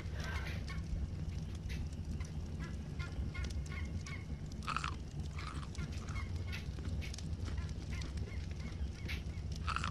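Fowl-like honking squawks from a dodo bird in the Ark survival video game, several short scattered calls at a fairly faint level over a soft ambient background hum.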